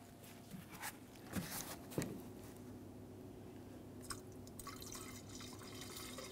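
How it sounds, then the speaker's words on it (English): Premixed coolant pours into the radiator reservoir of a 2002-2005 Ford Explorer, a faint trickling and dripping with a few small clicks and splashes against low background hum. "We're going to continue on by filling the coolant."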